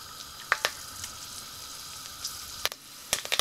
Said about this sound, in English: In go the curry leaves into the pot